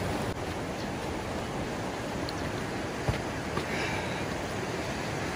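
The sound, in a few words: flowing creek water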